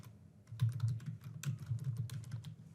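Typing on a computer keyboard, a quick run of soft key taps with a few brief pauses, close and fairly quiet, with no one speaking.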